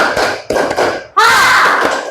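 A class of students clap in unison during a classroom clap game, sharp bursts of hand slaps separated by brief pauses, the last burst louder and sustained, with faint voices between.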